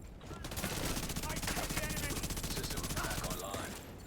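Submachine gun fire in the video game The Division 2, a dense, rapid stream of loud shots that runs almost unbroken for the whole stretch.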